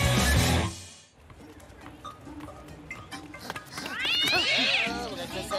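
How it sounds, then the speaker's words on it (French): In a cartoon, a cat fights with loud screeching yowls at the start, then goes quiet with scattered rustles, and ends in a rising, wavering meow-caterwaul. "Ah, c'est le chat, il se bagarre encore."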